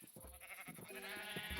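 Sheep bleat in a modded Minecraft survival game, a couple of short nasal calls heard close but quietly, with no talk over them.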